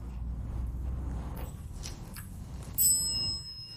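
A bicycle-style bell rings brightly near the end inside an abandoned school, a quick ring over a steady low background rumble.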